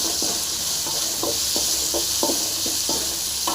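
Eggplant sizzles in a hot pan with curry leaves and coriander while a spoon stirs it, leaving a steady frying hiss broken by a regular scrape about every half second.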